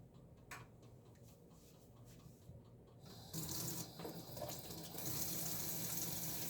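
Water is poured while a Japanese rice bowl is being cooked: a quiet kitchen with faint ticks gives way to a steady rush of pouring water that carries on to the end.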